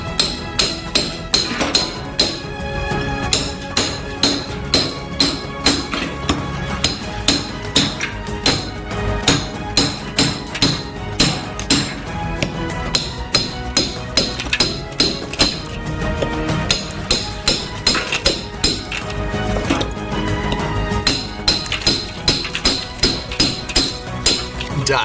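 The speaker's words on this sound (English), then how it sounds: "Using an axe and hammer, we split these blocks into smaller pieces." An axe and hammer strike blocks of ice to split them into smaller pieces at a street stall making natural fruit ice cream. Repeated sharp, ringing knocks and clinks land in a steady rhythm close by.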